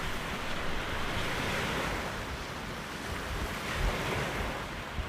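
Strong wind drives big waves across Clear Lake, producing a loud, steady roar of surf and gusting air that fills the whole stretch, with no voices.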